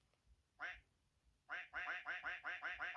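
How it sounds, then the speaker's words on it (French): Duck quacks played as a sound effect from a phone on a raft, one quack and then a quick run of repeated loud quacks in steady rhythm, close and clear. "c'est drôle de faire des canards"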